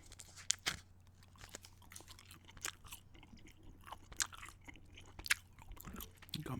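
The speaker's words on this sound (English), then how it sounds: "gum chewing" Close, quiet ASMR gum chewing: soft wet smacks and small crunchy bites at an irregular rhythm, with no speech over them.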